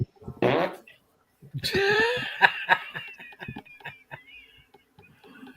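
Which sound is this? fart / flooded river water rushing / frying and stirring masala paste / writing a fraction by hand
fart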